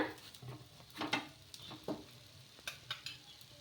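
Betel-leaf (thamalapaku) dosa on a hot pan after oil goes on: faint, close sizzling with irregular scraping and light clicking as it is tended, quiet throughout with no speech.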